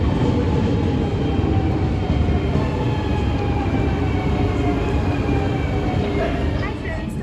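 A passenger train runs steadily on its way to Kolkata, filling the carriage with a continuous loud rumble and rattle of wheels on track. The sound carries on unbroken, with faint voices of passengers onboard underneath.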